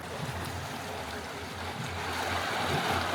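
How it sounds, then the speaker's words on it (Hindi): Snowmelt water rushing below a street in a snowy Japanese onsen town, a close, dense, steady flowing roar that swells slightly toward the end, with no talk. "आवाज़ आ रही है, ये नीचे पानी चल रहा है।"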